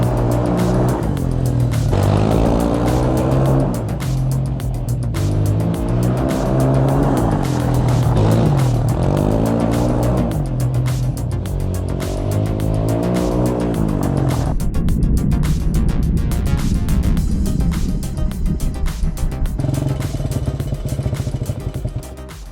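A home-built Honda CT125 trike under test ride, its small engine revving and bogging in uneven surges, loud and close with rattling and tyre scrabble as it drifts.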